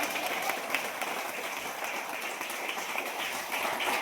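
A church congregation claps loudly and continuously, a dense patter of many hands filling the room with no break.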